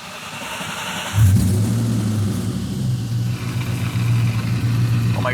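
A Terminator Cobra car engine turns over at about one second and catches, then settles into a loud, steady rumble with slight revving swells, heard close by with no voices.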